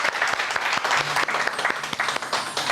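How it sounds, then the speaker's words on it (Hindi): A studio audience applauds a contestant on a Pakistani singing talent show, with loud, continuous clapping that carries a few brief voices and a faint tone underneath. "कोमल के लिए जोरदार तालियां।"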